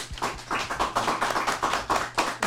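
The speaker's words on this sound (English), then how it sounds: "let's give a round of applause to Mr." Small audience at a professional association talk giving a round of applause for a presenter, a brief spell of distinct, fairly sparse hand claps in an uneven rhythm, close and moderately loud.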